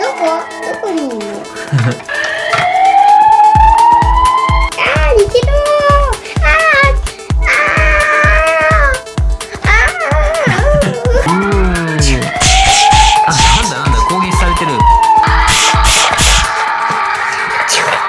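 A toy police car from an emergency vehicle set wails with rising and falling electronic siren tones over quick rhythmic thumps, while children talk excitedly nearby.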